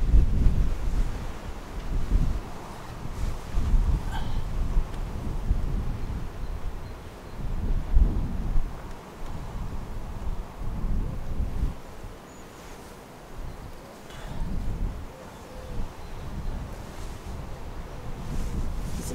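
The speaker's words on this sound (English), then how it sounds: "really windy today, which is really bad for filming" Strong gusting wind buffets the microphone outdoors at an off-grid earthbag workshop build site, a loud continuous low roar swelling and easing in waves throughout, with no other sounds standing out.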